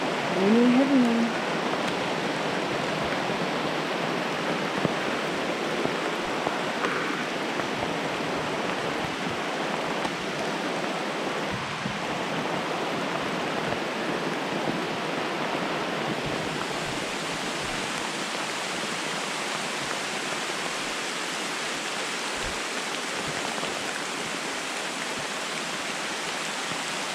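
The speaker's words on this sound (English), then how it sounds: "Raining heavy now." Heavy rain pours down in the Tobago rainforest, a dense, steady hiss that fills the whole stretch without pause, loud and close with no voices.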